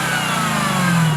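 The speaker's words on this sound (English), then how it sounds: "for 2019, we got this, the Dodge Challenger Hellcat Red Eye" A 2019 Dodge Challenger Hellcat Red Eye, a 797-horsepower supercharged muscle car, sounds a brief, steady, close engine note that rises slightly toward the end with no talk over it.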